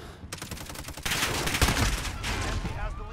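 Rapid gunfire from a Call of Duty team deathmatch, with dense overlapping bursts that grow louder after the first second and continue throughout, mixed with game effects and faint background voices.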